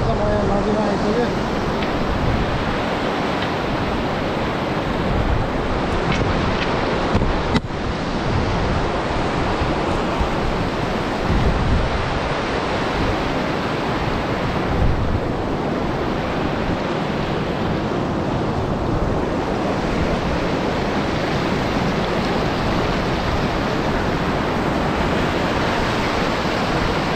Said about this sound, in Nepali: अहिले त म नदीमा आइसकेँ